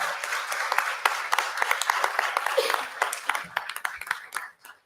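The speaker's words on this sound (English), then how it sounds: "if you would join me in welcoming them with a round of applause" A round of applause welcoming school staff at a board of education meeting, a mid-sized room of people clapping in bursts that build, hold, then thin out and fade, with brief voices underneath.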